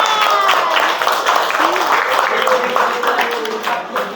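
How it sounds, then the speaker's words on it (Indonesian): Audience applause in a coaching class session, a dense, steady wash of many hands clapping at close range, with some thin whistle-like tones running through it for about four seconds. "Beri tepuk tangan"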